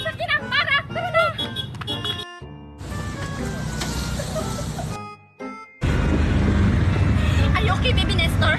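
Car engine and road noise from a vehicle driving, a steady rumble running through the clip with abrupt cuts, preceded by high-pitched voices talking.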